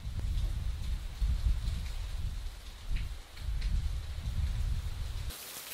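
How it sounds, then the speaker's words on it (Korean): Steady rain falls across a quiet garden beside a private study hall, a dense, continuous patter with slight swells in intensity, heard alone without voices before it cuts off abruptly near the end. "뜰에 빗소리가 가득합니다."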